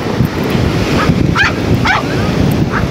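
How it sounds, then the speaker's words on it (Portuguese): A few sharp barks from a big dog, spaced apart, over steady wind or surf noise on a beach at Atafona, Brazil; the barks sound moderately distant and not very loud. "Tem mó cachorrão ali"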